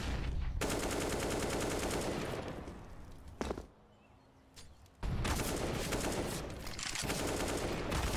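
Rapid bursts of gunfire in a professional Counter-Strike match on the Inferno map fill most of the stretch, loud and sustained, broken by a brief lull before the shooting resumes.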